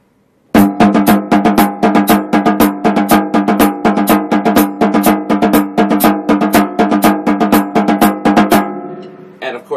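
Electric guitar notes bent repeatedly in a steady eighth-plus-two-sixteenths rhythm, loud and close, a long even run of plucked, bending tones that stops and is followed by a brief faint ring.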